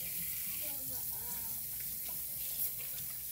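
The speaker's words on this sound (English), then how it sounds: "Go ahead and wash my hands here." Water runs from a sink tap as hands are washed, a steady broadband hiss throughout with faint splashing and a brief voice-like murmur underneath.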